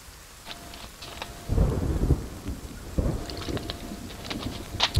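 Rain patters steadily in The Forest video game while two deep rolls of thunder swell in, one around the middle and another shortly after, over a scatter of sharp droplet ticks.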